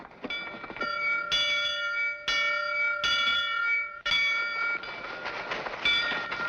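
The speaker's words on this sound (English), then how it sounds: "People usually head for the meeting house when the bell tolls, not run from it." A meeting-house bell tolls repeatedly at a steady pace, its ringing strikes loud and close with long sustained overtones, no voices present.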